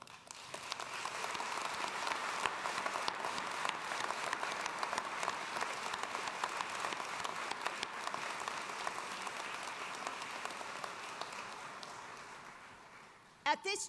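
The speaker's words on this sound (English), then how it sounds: "Please join me in a round of applause for each other" A commencement audience in Gentile Arena applauds steadily and loudly, a dense wash of clapping that holds for over ten seconds before tapering off abruptly at the end.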